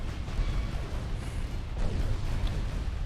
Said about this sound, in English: So many gunshots.